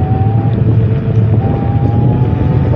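Steady electric drone of a Cio WAY Hunter Pro scooter riding in second gear on a bike path, a continuous whine with a faint motor tone and wind rumble, close and loud throughout.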